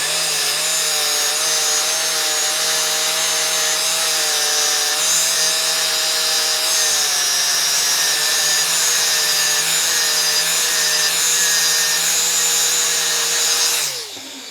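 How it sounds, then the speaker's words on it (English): An angle grinder fitted with a flap disc works over a cast aluminum part under repair, a loud continuous grinding whine held steady for about fourteen seconds before winding down at the end. "I'm going to start with a flap disc and just slowly take some of this off"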